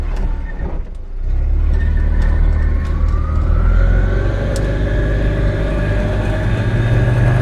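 An Invacar engine runs on points-assisted ignition with the spark unit switched off, giving a loud, steady drone that rises and holds. A brief dip comes early, and then it revs on evenly with a whining tone.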